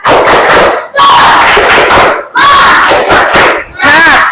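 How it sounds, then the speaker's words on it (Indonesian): A school class loudly performs the tepuk semangat clapping chant in unison, shouting in bursts with brief pauses between rhythmic phrases, close and energetic. "Coba kita tepuk semangat bersama-sama."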